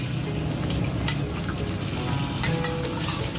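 Egg frying in a wok while making restaurant-style fried rice, a steady dense sizzle throughout with a few brighter crackling bursts, close and fairly loud, no voices.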